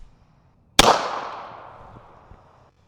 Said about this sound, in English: Moving up to 9mm, see if this one can start a fire.